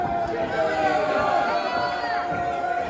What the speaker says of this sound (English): the crowd here in Iowa are with them